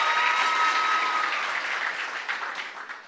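A crowd at a regional oratory contest claps steadily for a few seconds, the applause dense at first and thinning slightly toward the end.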